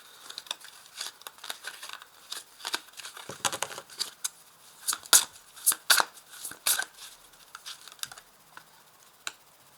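Tarot cards handled, shuffled and laid out on a surface: a busy run of close, crisp flicks, slaps and riffling snaps that cluster loudest in the middle, then thin out to a few isolated taps.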